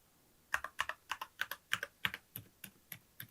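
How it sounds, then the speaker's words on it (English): Typing on a mechanical keyboard fitted with silent switches, about a dozen soft, muted keystrokes in a quick, uneven rhythm, faint and close with nothing else heard. "the silent keys are dramatically more silent than the stock brown tactile keys that came with the keyboard"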